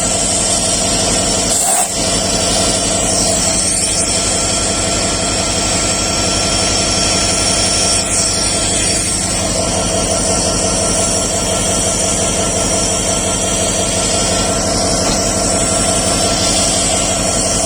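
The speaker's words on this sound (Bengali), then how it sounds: "তিন হাজার উনিশ লোকোমোটিভ নিয়ে মহানগর এক্সপ্রেস ছেড়ে যাচ্ছে" A locomotive's heavy diesel engine roars steadily nearby as the Mohanagar Express passenger train pulls away in Bangladesh, hauled by locomotive 3019, with a loud horn-like blast early on.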